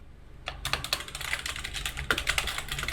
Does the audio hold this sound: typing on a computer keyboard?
yes